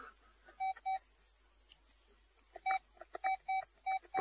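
Mobile phone keypad beeps sound in a Polish radio play, a pair of short electronic tones followed after a pause by a quicker run of button presses, clear and close in a quiet room.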